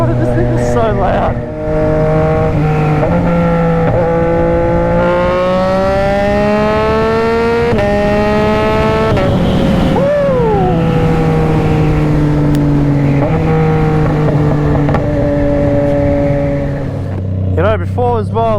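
A Yamaha MT-09 SP motorcycle engine drones loud and close, its pitch rising and falling through revs and shifts, while a rider talks steadily over it.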